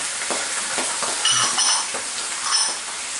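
White wine poured into a hot pan of lightly toasted garlic for a chicken pasta sauce hisses and sizzles loudly, with bright crackling bursts and a few soft utensil clinks over steady frying noise.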